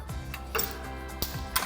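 A 15mm wrench runs out a nut on a 2016-2024 Camaro coil-over install, giving a few light, evenly spaced ratcheting ticks over a low steady hum.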